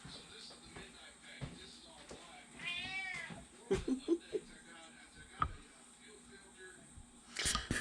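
A house cat meows in a kitchen during soup-making, with several short cries and one longer rising meow among light clatter and soft laughter, no clear talk.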